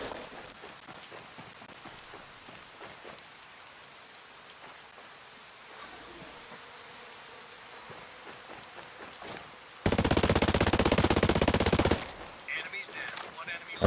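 Gunfire in the video game Ghost Recon Breakpoint during a PvP match: scattered sharp shots crackle at first, then a loud sustained automatic burst roars for about two seconds before tapering into a few more shots.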